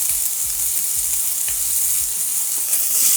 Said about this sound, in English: onions and the sweet peppers and pimentos. That a little toss.